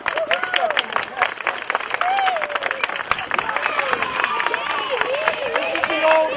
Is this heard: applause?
yes